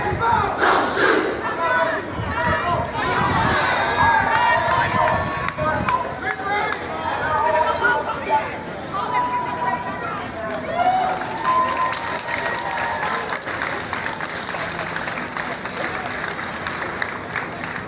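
A street protest crowd of a couple hundred people in uptown Charlotte, North Carolina, chanting and shouting in a continuous loud roar with scattered clapping and nearby voices.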